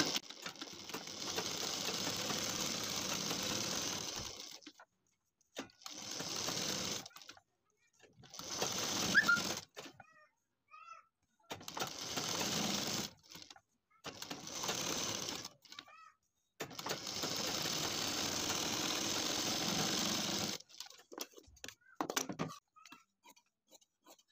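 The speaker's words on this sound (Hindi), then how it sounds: "अब यहाँ पर भी हम पलट के इसको सिलाई लगा लेंगे" A sewing machine stitches a kurti neckline in several bursts of steady whirring, each a few seconds long and separated by short pauses. The stitching is clear and close, with no talking.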